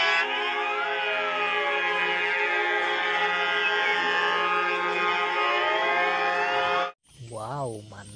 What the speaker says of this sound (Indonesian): Lihat teman-teman, ini ada mobil pemadam kebakaran.